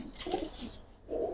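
A Giribaz tournament pigeon coos softly in short low phrases close by in a loft, fairly faint with no talk over it.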